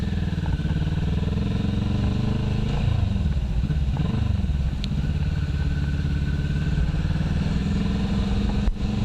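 A motorcycle engine drones steadily and loudly up close, its pitch rising and falling briefly partway through, with continuous road noise throughout.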